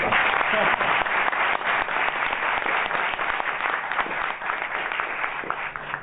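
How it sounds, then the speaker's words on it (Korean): A seminar audience applauds its professors with sustained, dense clapping filling the room, loud and continuous before fading slightly at the end. "우리 교수님들께 다시 한번 감사의 박수를 드리겠습니다."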